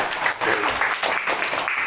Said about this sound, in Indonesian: Coba kasih tepuk tangan dulu.